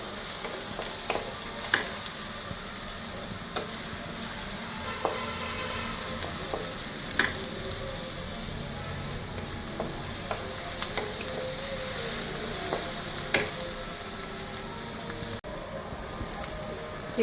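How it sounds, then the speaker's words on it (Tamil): Onions frying in a pan with cardamom, cloves and cinnamon, a continuous close sizzle with soft, scattered stirring scrapes and taps throughout. "நல்லா கோல்டன் கலராக வதங்க விடணும்."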